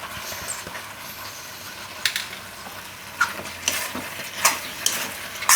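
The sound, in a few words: pasta added to the pan and stirred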